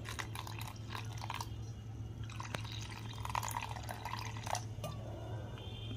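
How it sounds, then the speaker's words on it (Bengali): Water poured into a blended weight-loss drink, a soft, close trickle and dripping splash over a low steady hum. "তো একটু জল অ্যাড করে দিই"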